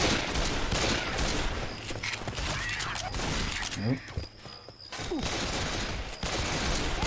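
Dense rapid gunfire in Left 4 Dead 2 runs almost continuously. It briefly thins near the middle and then resumes, loud and close, with a voice faintly underneath.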